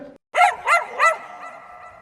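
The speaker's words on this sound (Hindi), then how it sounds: "हम सोचा कुत्ते का बच्चा है।" A puppy gives three quick, high yelping barks in close succession, near and fairly loud, followed by a faint lingering tone.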